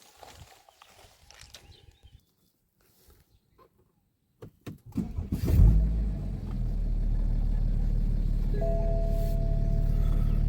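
A 2015 BMW 3.0 diesel engine with a new timing chain and a rebuilt turbo cartridge: faint clicks, then it cranks and catches with a loud surge and settles into a smooth, steady, close idle.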